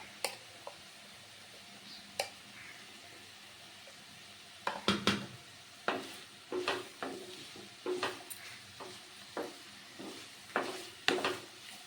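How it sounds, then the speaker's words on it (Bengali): Beans and capsicum with carrot are stirred and fried in a pan, with a faint sizzle under scattered sharp clinks and scrapes of a spatula against the metal. "এবার আমি বিনস আর ক্যাপসিকামটা দিয়ে দিচ্ছি ভেজে নেওয়ার জন্য"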